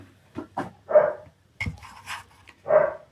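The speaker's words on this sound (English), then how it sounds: "That dog you can hear barking it's a dog in the village." Village dog barks in short bursts, several separate barks with gaps between them, moderately near and alone.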